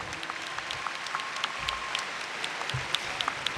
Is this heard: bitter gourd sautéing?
no